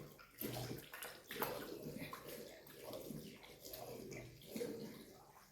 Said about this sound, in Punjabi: ਹੱਥ ਧੋ ਲਈਏ